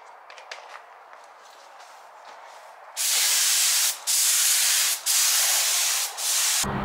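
A spray gun applies high build primer to a trailer. After some quiet rustling and handling, four long, loud hissing bursts follow, each broken by a short pause.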